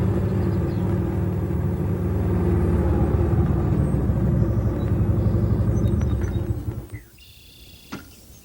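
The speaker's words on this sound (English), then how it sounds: "now I'm driving off into the slightly bluish-gray, hazy hills" A car engine rumbles steadily up close as the vehicle pulls away, a low continuous drone that drops off sharply near the end, leaving quiet with a faint click.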